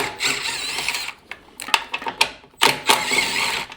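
A ratchet wrench with a 1/2 inch socket works a bolt loose on a Harley Road Glide during a battery swap, giving bursts of close, dry clicking with short pauses between strokes.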